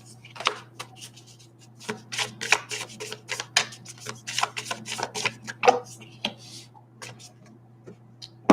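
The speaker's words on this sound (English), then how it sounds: "Let me shuffle these." Tarot cards being shuffled by hand, a run of crisp riffling and slapping bursts in quick irregular clusters, close and fairly quiet over a steady low hum, with no talking.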